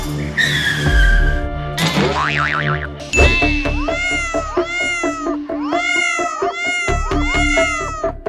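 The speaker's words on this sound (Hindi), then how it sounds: "यहाँ पर बिल्ली का पूरा परिवार है" A cat meows repeatedly in a comedic household scene, a run of loud close meows mixed with cartoonish boing and skidding effects, then a rhythmic series of meows with no talk.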